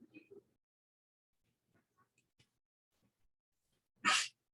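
A single sharp sneeze bursts out near the end after a few seconds of near silence and faint small sounds, with brief soft voice sounds at the start.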